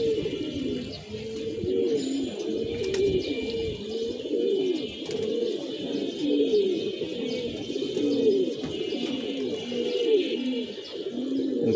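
Pigeons and newly released chicks on a rooftop coo in overlapping low, rolling calls, near and continuous, with a few faint chirps.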